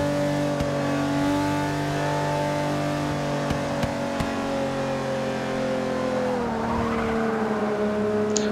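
Mercedes CLK GTR race car at full throttle in Forza 6 at Watkins Glen, a loud steady engine drone rising in pitch, then a brief dip as it shifts, with faint tyre noise, no voices.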